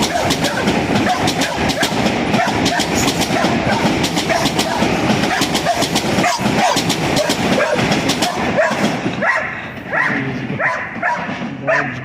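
A Metro-North Railroad train rolls past nearby with a loud, continuous rumble and rhythmic wheel clatter for several seconds, dogs barking over it, before the noise eases toward the end.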